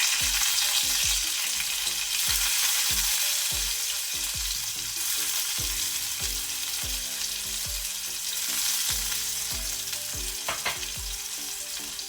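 Chopped garlic and green chilli sizzle with cumin seeds in hot oil over a low flame. The frying hiss is steady and close, broken by repeated clicks and scrapes from stirring, with no one talking.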